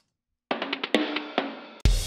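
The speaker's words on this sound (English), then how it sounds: "there is a drum fill. This is being played by Steven Slate Drums" A quick drum fill played on Steven Slate Drums samples in a future bass remix, a rapid run of punchy hits building into one heavy crash-like final strike, close and dry.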